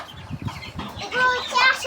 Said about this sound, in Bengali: এটা হচ্ছে ফাউমি মুরগি